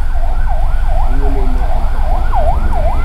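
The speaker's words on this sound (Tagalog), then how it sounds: "emergency, ambulansya" An ambulance siren wails in a fast, repeated yelp pattern at a town fiesta, loud and near over rumbling traffic and crowd noise.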